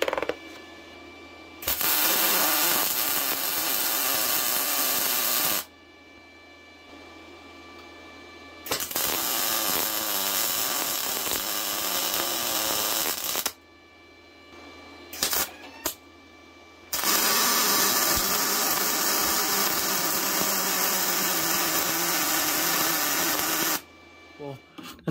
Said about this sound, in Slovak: No a pokračujeme v režime Migmag, zváranie hliníkom s argónom